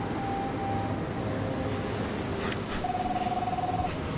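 A telephone rings faintly in The Fidelio Incident over a low, rumbling background, first softly, then again with a quick trilling burst later on.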